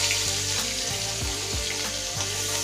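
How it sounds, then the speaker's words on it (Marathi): Ground masala paste hitting hot oil in a kadhai for a Maharashtrian fish curry, giving a steady, close, loud sizzle and crackle with a few scrapes from stirring, and no voices. "कढईमध्ये तेल टाकून घेतलेलं आहे. त्याच्यामध्ये हा आपण वाटून घेतलेला मसाला आहे थोडासा ॲड करायचा."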